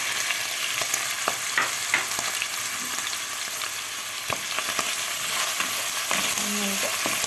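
Chopped onions and garlic sizzle steadily in a hot pan while cooking a Hatay-style spinach borani, with occasional clinks and scrapes of a utensil over the continuous frying hiss.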